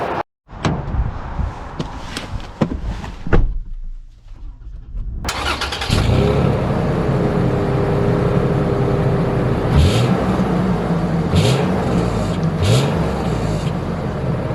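2024 Toyota 4Runner TRD Off-Road, heard first with a few door or cabin thumps, then the engine catching and settling into a steady drone with rising revs as it drives off, loud from inside the cabin.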